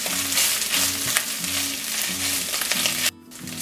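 Meat sizzles and fries in a pan with olive oil, garlic and coriander, a loud continuous crackle with rhythmic stirring scrapes, briefly dropping away near the end.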